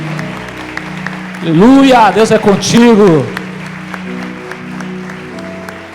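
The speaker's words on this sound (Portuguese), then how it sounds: "Vamos aplaudir o Senhor pela vida desses irmãos." A church congregation claps throughout, with dense, moderately loud applause partly covered by a voice calling out over it.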